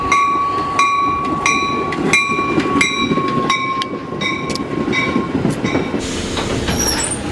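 Train pulling into Chicago Union Station: steady rumble of railcars with repeated rhythmic wheel clacks and a sustained high metallic wheel squeal, loud and close, with no talking.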